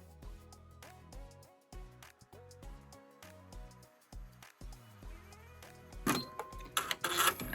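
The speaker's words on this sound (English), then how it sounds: "we're gonna start the machine, and like I said, it's gonna create the placement stitch first." An embroidery machine stitching a placement outline on fabric for an in-the-hoop ghost mouse wand, with a rapid, regular mechanical clatter of needle strokes and motor whir, close and fairly quiet, ending in louder rattling bursts.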